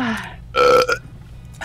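A single loud, drawn-out belch from a player during Super Mario RPG gameplay, with a throaty tonal burst and a short second gulp before it trails off into quiet.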